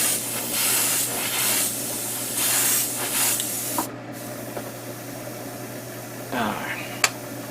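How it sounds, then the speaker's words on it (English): Short bursts of aerosol spray primer coat black parts of an MGSD Freedom Gundam model kit, several hissing blasts in the first four seconds, then quieter handling noises and a faint click near the end. "So right now I am priming the black parts."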